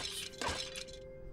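Objects being smashed in the video game Stoneshard, a single sharp shattering crack with glassy debris over steady game ambience and a low hum.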